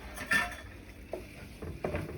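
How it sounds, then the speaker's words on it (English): A roux base for shrimp étouffée stirred in a pot, giving a few soft scraping and clinking strokes of a spoon against the metal over a faint background sizzle, with no talking. "You're gonna see how it's gonna start becoming a paste. This is what you want, okay? There you go. And just keep stirring."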